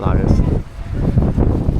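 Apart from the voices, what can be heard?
wind blowing on the microphone outdoors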